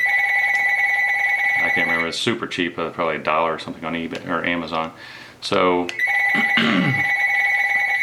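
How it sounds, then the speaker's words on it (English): A telephone rings indoors with repeated electronic trills, loud and close, continuing beneath someone talking about a cheap camera lens cap. "really sorry about the phone, it'll stop in a second."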